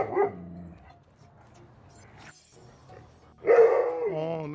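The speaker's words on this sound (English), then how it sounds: "and he is now barking" Alaskan Malamute dog at home gives a single bark, then after a quiet pause a longer, louder howling bark-whine; a person speaks briefly in between.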